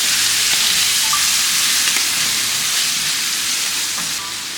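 Garlic sautéing in hot oil in a pan for a paella, a steady close, loud sizzle with crackling hiss throughout and no talk.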